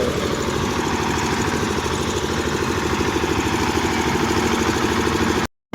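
Several fishing boat engines idle and rumble steadily at Okha port during a storm, a continuous low mechanical drone with a faint rhythmic chug throughout.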